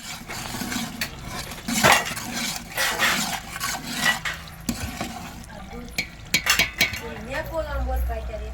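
Onions being stirred in a pan for Kashmiri dum aloo, with repeated metal spoon scrapes and clinks against the pan over a soft sizzle, close up, with someone talking intermittently.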